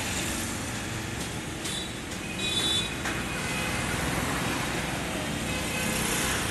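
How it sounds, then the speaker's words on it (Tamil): Heavy traffic moves along a main road in Dadar, Mumbai, a continuous hum of car and motorbike engines with a few brief higher whines and horn-like tones, fairly close and steady. "ரொம்ப ஹெவி டிராஃபிக்காக இருக்குது"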